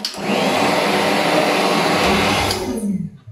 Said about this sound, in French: ça fait une éternité que j'ai pas vu de sèche-cheveux comme ça. On dirait un aspirateur.